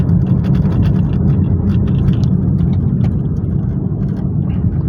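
A 2016 Datsun Go engine accelerating gently uphill through city streets, a loud, steady low drone with road rumble heard from inside the cabin.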